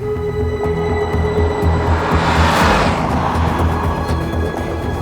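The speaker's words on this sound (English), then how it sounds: "Love the sound of this engine." A 1970s Alfa Romeo Montreal V8 sportscar drones steadily while on the move, a dense, loud and continuous engine roar with road and wind noise that swells slightly midway.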